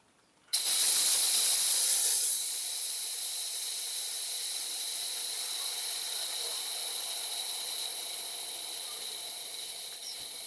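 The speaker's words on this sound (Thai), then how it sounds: "กดปุ่มตัวเนี้ย ระบายแรงดันออกฟังเสียงนะผม" Pressurized air hisses loudly out of an electric car-wash foam sprayer as its release valve is held open, a steady broadband rush that begins abruptly and slowly eases over about ten seconds, with no voices.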